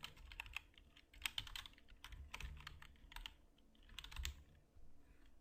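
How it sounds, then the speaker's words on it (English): Fingers tapping a computer keyboard in quick, uneven clusters of clicks, faint and close, with no talk. "You will just type in"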